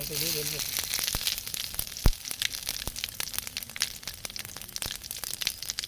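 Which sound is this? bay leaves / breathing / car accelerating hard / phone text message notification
bay leaves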